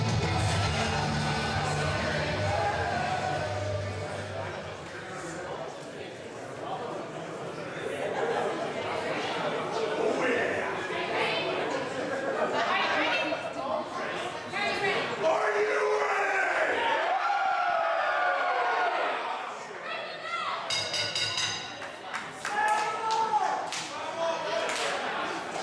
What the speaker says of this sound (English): Mike McSugar already getting this crowd worked up here tonight